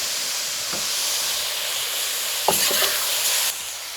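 Pork stir fry hisses steadily in a hot pan, a continuous close sizzle with a few scraping, stirring knocks partway through.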